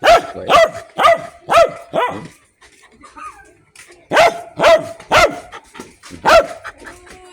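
A dog barks repeatedly at close range in quick bursts, pauses briefly, then resumes with another run of sharp barks.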